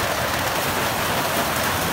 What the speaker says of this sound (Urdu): وقفے نال ہونی ہے پہ لیکن موسلادھار بارش ہے، تیز بارش ہے۔